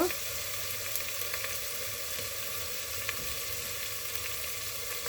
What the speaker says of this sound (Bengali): একটু ভালো করে নাড়াচাড়া করে নিতে হবে যাতে নিচে পুড়ে না যায়